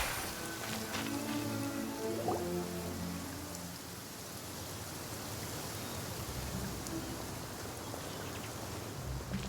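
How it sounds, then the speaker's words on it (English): Rain in the video game Genshin Impact, a steady hiss of falling drops on surfaces that runs throughout, with some faint tonal game sounds early on and no talking. "It's raining again? Oh, this isn't good."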